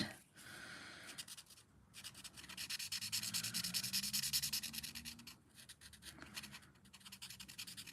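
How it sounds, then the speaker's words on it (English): A pro marker rubs over card tags in quiet, close, scratchy strokes that come in bursts separated by short pauses. "now I'm going to grab one of my pro markers and I'm just going to colour the tags in"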